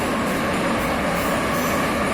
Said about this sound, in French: Quand tu prends le métro à Tbilissi, eh ben c'est un coup à te perforer les tympans.